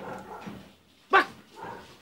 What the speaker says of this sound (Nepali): कुकुर कराए